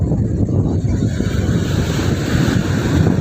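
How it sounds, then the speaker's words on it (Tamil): Sea waves and strong wind at Nagapattinam beach make a steady, loud roar of surf and buffeting wind noise with no pauses. "இதுதான் நாகப்பட்டினம் கடற்கரை"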